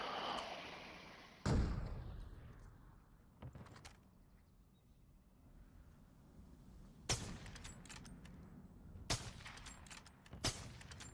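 Gunshots in a first-person shooter game ring out in a few separate sharp bursts, the first loudest and the rest quieter and spread apart, over a low background rumble.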